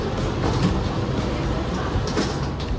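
Inside a Chinese high-speed bullet train with automatic doors, a constant close cabin rumble and hiss carries on evenly for a few seconds.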